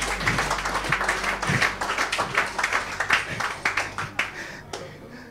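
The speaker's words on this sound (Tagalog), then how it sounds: "Palakpak tayo sa Panginoon," A church congregation clapping in uneven bursts of claps close by, with scattered voices mixed in.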